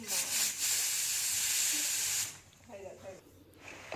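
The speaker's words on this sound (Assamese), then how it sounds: "দুটা হুইচেল মাৰিবলৈ দিম" A home pressure cooker cooking Bombay duck fish chutney lets out a loud, steady hiss of escaping steam for about two seconds. The hiss then cuts off abruptly, leaving quieter kitchen background with faint voices.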